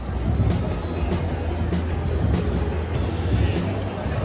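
A Seiko Power Design Project 2024 experimental timer watch plays a melody in thin, high electronic beeps, note after note in a steady tune over low background rumble.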